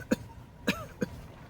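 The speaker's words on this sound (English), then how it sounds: "Cough." Three short coughs, close and fairly soft, come in an uneven rhythm during an ASMR medical roleplay exam, with quiet room tone between them.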